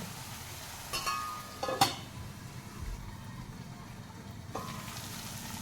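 Green chillies cooking with spices in a covered pan, steaming before being mixed with curd, give a soft steady sizzle and hiss with a few brief clinks of a utensil against the pan.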